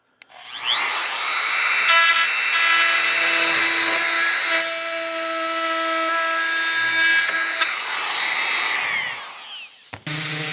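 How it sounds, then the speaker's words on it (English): A power tool whines steadily as it routes keyholes into a wooden workpiece guided by a homemade jig, a loud sustained high-pitched drone running about nine seconds before spinning down and stopping. "Makes cutting keyholes quick and accurate"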